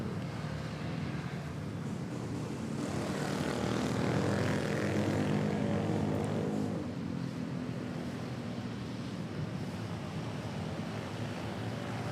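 A Philippine Airlines Airbus A321 airliner at Manila Airport gives off a loud, continuous jet roar that swells in the middle and then eases off gradually, with no voices.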